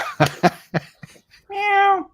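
A cat gives one clear, drawn-out meow close by. It comes after a few short bursts of sound.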